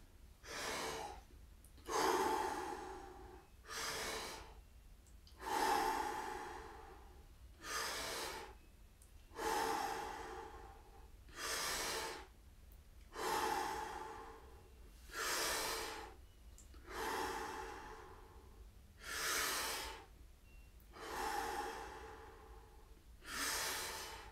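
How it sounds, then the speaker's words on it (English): Slow, deliberate breathing in and out through the mouth during a relaxed seated exercise, about a dozen long breaths in a steady rhythm, close and alone, each a breathy rush followed by a short pause. "the breathing is gonna take place through your mouth"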